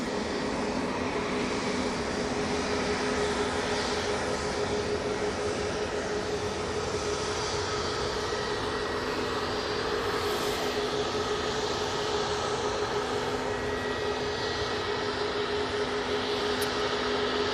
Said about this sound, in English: Ryanair to Barcelona